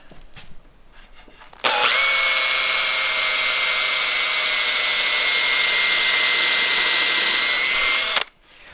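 A power drill bores into plywood in a workshop with a loud, steady high whine. It starts abruptly, holds for about six seconds close to the listener, then cuts off sharply, with faint handling noise before it.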